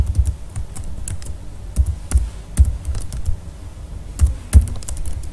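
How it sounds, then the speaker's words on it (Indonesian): Typing on a computer keyboard, entering a command: close, irregular key clicks and taps with a few heavier strikes, heard alone without talk. "jika kita ketik notepad helloworld.class"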